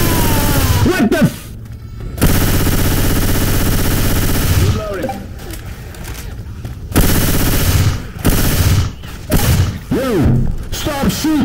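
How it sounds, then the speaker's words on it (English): Loud gunfire fills a Left 4 Dead 2 match in rapid bursts, with dense, close firing broken by brief pauses and a voice shouting over it. "Stop shooting me, alright?"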